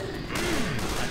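Continuous gunfire in the zombie shooter Left 4 Dead 2 on the Dead Center campaign, a dense, steady barrage of shots that fills the whole moment with little break.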